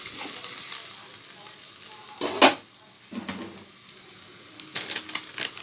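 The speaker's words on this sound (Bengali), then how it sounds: "একটু শুকনো লঙ্কা দিয়ে দিলাম। তো মশলাটা কষিয়ে নেব।" Dried red chillies and spice masala frying in a pan during paneer cooking, a soft steady sizzle with stirring scrapes, a sharp hiss burst midway and clinks of utensil against pan.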